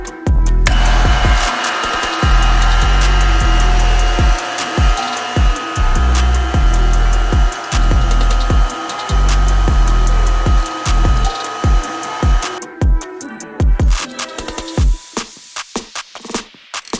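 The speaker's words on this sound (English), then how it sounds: "we've got our vacuum pump setup hooked up, so it's ready to go. I'm going to turn this on, and I'm going to pull a vacuum on this" A vacuum pump for carbon fiber resin infusion runs with a loud, steady droning whir and airy hiss, broken by irregular low clunks, then cuts off, leaving scattered clattering handling noises.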